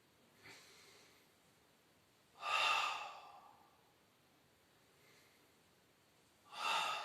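Breaths during a Pilates abdominal exercise, two loud close exhalations with soft fainter breaths between them and otherwise near silence.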